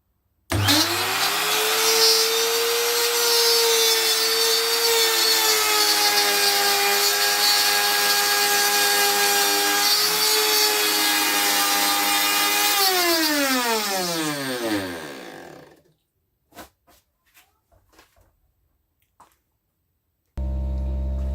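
A small trim router whines loudly and steadily as it cuts a shallow groove a few millimetres deep into wood, then spins down with falling pitch, followed by a few faint clicks and knocks.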